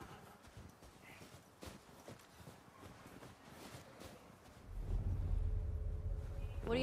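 Horse hooves clopping in the video game The Last of Us Part II, an irregular series of soft steps at moderate distance, followed near the end by a louder low rumbling ambience that swells over them.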